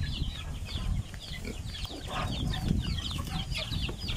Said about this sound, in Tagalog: ito po yung mga alaga ko na manok